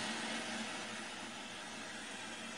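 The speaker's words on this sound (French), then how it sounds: "je sais pas, c'est le vent, je pense." A faint, steady rushing hiss of recorded wind plays from a Xiaomi Qualitell sleep-aid speaker, even and unbroken with no gusts.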